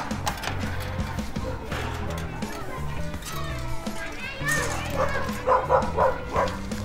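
A dog barks in short bursts inside a home outside Havana, Cuba, mixed with children playing and people talking nearby, growing busier toward the end.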